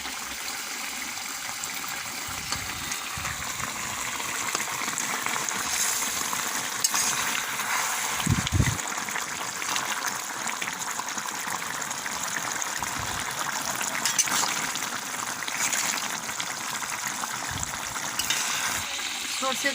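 Koi fish fry in a pan under mustard paste with a steady, close sizzle that runs without a break, broken now and then by soft low thumps of stirring.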